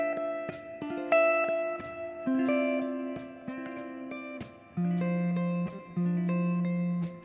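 A D-rooted ninth chord without the fifth is played as a sequence of plucked, ringing tones that build into sustained harmonies, clean and alone with no talk.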